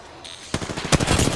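Gunfire in Apex Legends: after a quiet moment, a loud rapid burst of automatic shots rattles in fast even rhythm, close and alone.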